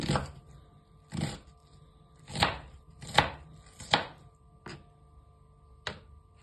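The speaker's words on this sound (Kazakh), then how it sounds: "Барлық ингредиенттерді кубиктап майдалап турап аламыз." Seven sharp knife chops on a cutting board, dicing onion into cubes, irregularly spaced with short pauses between, close and crisp against a quiet background.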